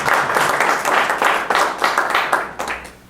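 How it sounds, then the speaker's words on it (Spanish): A small audience at a medical talk claps to welcome a guest speaker. The applause is loud and close, coming in uneven surging waves over about three seconds before it fades. "Un aplauso para recibir a nuestro invitado."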